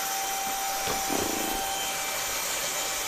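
A vacuum cleaner sucks dust and cobwebs from inside a PC, giving a steady, loud whooshing drone with a constant high whine and a brief shift in tone near the middle.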